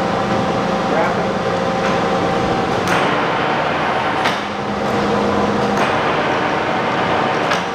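A Kearney & Trecker model 315 S-15 vertical milling machine with a number 50 taper runs with a steady mechanical hum and whir, faint periodic clicks over it, and someone talks over the machine.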